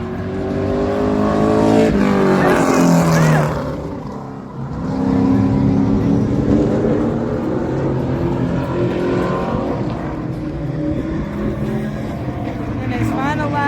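A super late model race car laps Magic Valley Speedway, its engine roaring loud and close with rising and falling revs as it drives through the turns and straights.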